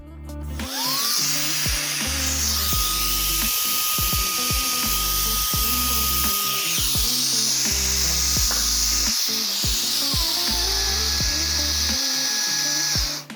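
A loud, high-pitched HOTO cordless electric air duster whirs continuously, with short bursts and shifts in pitch as it revs, close up and steady throughout.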